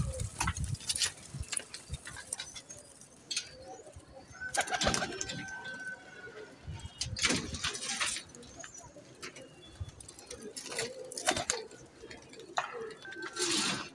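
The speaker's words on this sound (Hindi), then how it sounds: "ये मियाँ साहब वाले कबूतर है" Miyan Sahab pigeons, a breeding pair, coo repeatedly in soft throaty calls over a continuous stretch, with scattered chirps and light rustling around them.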